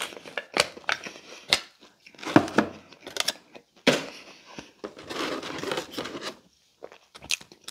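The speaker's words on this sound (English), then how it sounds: "Let's bust open the marinara sauce for that girl" A Pizza Hut marinara sauce packet being torn open, heard as close, intermittent crinkling, tearing and plastic rustling in short bursts with quiet gaps between.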